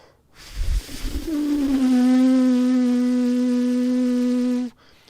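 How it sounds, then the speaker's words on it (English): Trumpet lip buzz made by blowing air and slowly closing the lips, starting as breathy air and settling into a steady sustained buzzing tone for several seconds before stopping abruptly. "blow that air and then close the lips down on the air slowly until we get the buzz we're looking for"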